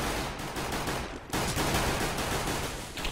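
Rapid gunfire rattles through a CS:GO round, continuous automatic bursts filling the scene with a short dip before the shooting resumes even louder, no talking heard.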